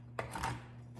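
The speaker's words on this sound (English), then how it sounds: "So I'm just gonna chop this up just a little bit." A knife chops whole cashews on a board, with one sharp cut followed by a short cluster of close, crunchy chopping strokes, no voices.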